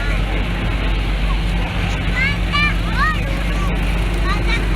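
A Fendt 724 tractor rumbles past with a steady low engine drone at the San Martino agricultural fair in Inveruno, with crowd chatter and chirping birds over it.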